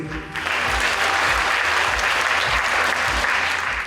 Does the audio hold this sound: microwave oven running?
no